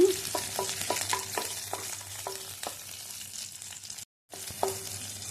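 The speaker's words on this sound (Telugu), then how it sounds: "పచ్చిమిరపకాయలు వేసుకొని ఎర్రగా వేయించుకోవాలి." Green chillies frying in hot oil in a kadai, a steady sizzle broken by repeated sharp taps of a spoon stirring against the pan, with a brief silent gap near the end.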